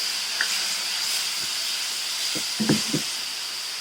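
Chopped onions and tomatoes sauté in a pan for a South Indian mutton gravy, a steady soft sizzle and hiss with a few close clinks and stirring knocks near the end.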